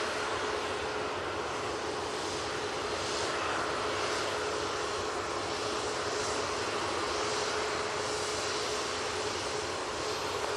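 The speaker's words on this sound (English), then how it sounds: "Ryanair lined up, ready to go. This will be going to Venice using 737 MAX 8 for this." At Manchester Airport, a Ryanair Boeing 737 MAX 8 bound for Venice takes off, a steady, fairly distant jet roar with a faint whining tone running under the rumble throughout.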